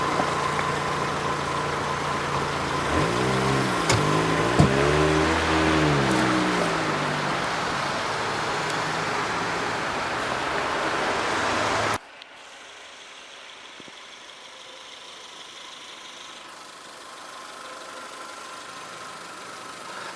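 A TagAZ Aquila's 1.6-liter naturally aspirated 16-valve inline-four idles with a steady, even hum, heard loud and close, then cuts abruptly to a much quieter, more distant idle.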